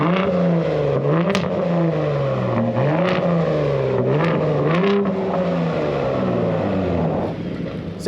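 Exhaust of a 2022 Ford F-150 Raptor heard from outside the truck, a steady loud rumble rising and falling in pitch with repeated revs, close by with no talking.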